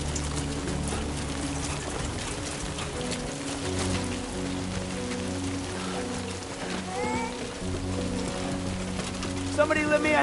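Rain falls steadily in the video game Death Stranding, a continuous hiss of droplets heard with sustained low tones beneath it.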